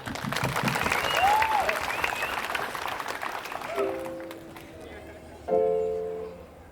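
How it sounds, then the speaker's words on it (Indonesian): Audience applause, a dense spread of clapping that thins out around the midpoint, with voices and brief singing-like tones over it in the second half. "Oke, tepuk tangan dulu."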